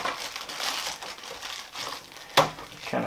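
Plastic protective covering being peeled off the rear suspension arms of a new Traxxas Pro Scale Funco 8S RC sand car: steady close crinkling and rustling, with a sharp snap near the end.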